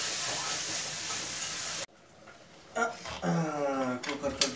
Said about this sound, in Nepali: कुकरको ग्यास पनि गयो